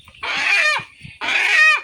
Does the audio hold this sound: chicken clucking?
yes